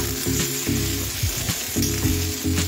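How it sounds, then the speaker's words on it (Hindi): Potatoes and onions fry together in a pan with a loud, close sizzle, broken by repeated scraping stirs of the spatula at a steady rhythm, with no voices. "देखिए आलू मेरा भून चुका है, प्याज और आलू साथ ही डाल दिए हैं लगभग।"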